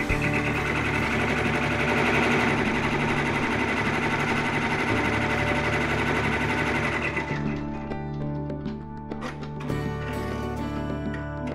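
A sewing machine runs a placement stitch for appliqué on a quilted letter, a steady loud mechanical whir that keeps going alone, easing and shifting slightly in tone toward the end.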